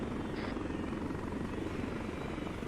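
A helicopter in a military simulation video game drones with a continuous, even rotor thrum, heard from inside or close by, steady throughout with no talking.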